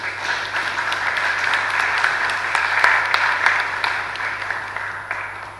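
An audience at the opening ceremony of a Caribbean technical and vocational education conference in Curaçao gives a round of applause, dense, even clapping of moderate loudness that swells slightly in the middle and then tapers.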